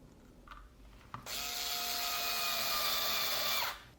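A power driver runs M3 screws into a portable power supply build, whirring steadily for about two and a half seconds after a brief click, close and clear with no talking.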